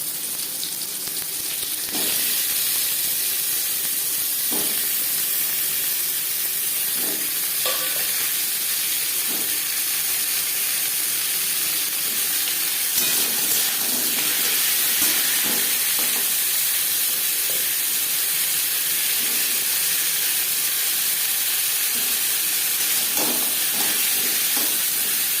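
Mango pieces frying in oil with panch phoron and chilli, a steady broad sizzle and hiss throughout with occasional soft stirring knocks, close and continuous.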